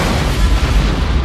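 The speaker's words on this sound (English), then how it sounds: "The explosion here rocked the ranch of Enrique Rojas less than an hour ago." Explosion in a movie trailer, a loud sustained low rumbling boom filling the whole clip with dense broadband roar and no talk.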